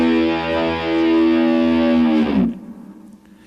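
A sustained, distorted electric guitar note rings loud and steady with rich harmonics, then drops abruptly at the end as a tremolo-dipped high harmonic on a solo settles to an ending E, followed by faint decay.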